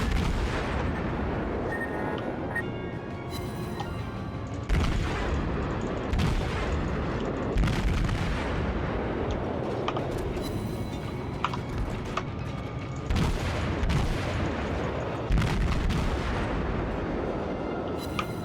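Naval guns on warships in World of Warships, booming salvos repeating every few seconds over a constant rumble of engine and sea, loud and close with some crackling tails.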